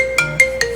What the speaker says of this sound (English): I got to start answering the phone because people are calling me